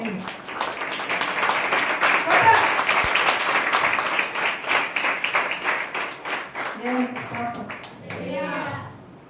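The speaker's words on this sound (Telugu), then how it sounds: "చప్పట్లు పడదామా?" A church prayer-meeting congregation in Kakinada bursts into sustained applause, dense clapping that gradually thins into scattered claps, with a voice speaking near the end.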